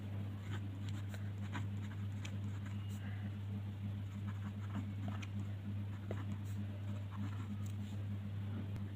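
A pen scratches out numbers while working a Class 5 maths solution, a faint, continuous scribbling sitting over a steady low electrical hum in a quiet room.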